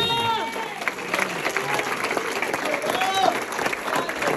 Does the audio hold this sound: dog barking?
no